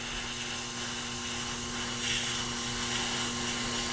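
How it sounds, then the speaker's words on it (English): A Tormek grindstone turns while a stone grader dresses its aluminium-oxide surface toward a 1000-grit finish, giving a continuous, even whirring hum with a broad gritty hiss, steady and close throughout. "we're going to take the stone grater, polish the surface of the grindstone down to the 1000 grit cutting action"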